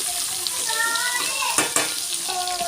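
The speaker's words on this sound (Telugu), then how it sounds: "దొండకాయ ముక్కల్ని ఇందులో వేసుకొని బాగా కలుపుకోవాలి" Chopped ivy gourd pieces sizzle and fry in a hot pan, with steady crackling and a couple of sharp scraping stirs partway through.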